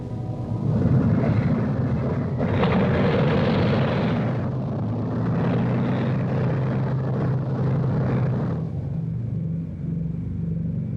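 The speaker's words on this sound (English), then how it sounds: "The men are ready for the takeoff." Heavy piston-engine roar of Superfortress bombers taking off, a loud steady rumble that swells and holds throughout, with no speech.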